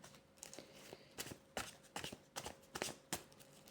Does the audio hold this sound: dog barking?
no